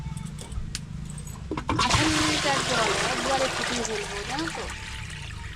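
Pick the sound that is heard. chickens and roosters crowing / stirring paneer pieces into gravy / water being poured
water being poured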